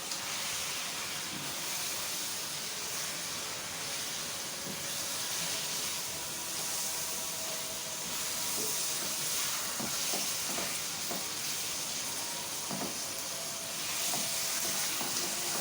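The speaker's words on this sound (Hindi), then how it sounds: "कीमे की इतनी भुनाई करें कि इसका कलर जो है वो चेंज हो जाए" Minced meat keema with salt browning in a pan, a constant soft hiss and sizzle filling the background with occasional faint spatula scrapes and pops, steady and moderately quiet, without speech.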